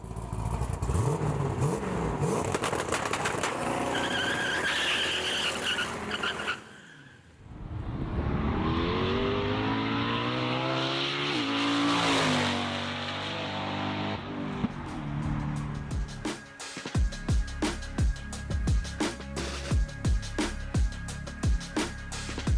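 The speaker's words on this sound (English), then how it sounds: "The low load upshifts, the downshifts, with the throttle blips, the full throttle upshifts and everything." LS V8-swapped BMW E90 sedan accelerating hard with sharp upshifts, a brief lull, then a long rising engine pull followed by a rapid series of throttle blips and revs, loud and close with no talking.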